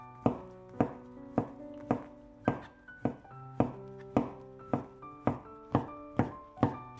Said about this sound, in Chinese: 再准备几个洗干净的香菇，先给它切成厚片， 再改刀切成小丁儿